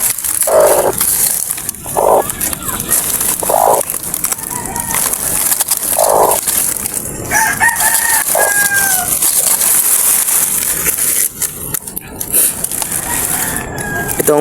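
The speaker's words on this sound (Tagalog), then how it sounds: "Itong manok natin na to," A farmyard hen clucks in several separate bursts, with crowing-like calls in between. The sound is close and loud over a busy, hissy outdoor background.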